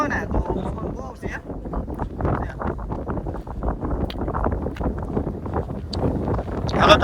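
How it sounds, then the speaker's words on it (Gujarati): Strong wind blowing at an outdoor hilltop site near Ratneshwar Mahadev (Mini Amarnath), a steady, loud, roaring rumble buffeting the microphone throughout with no break. "પવન તમે જોવો ને તો પવન બહુ છે."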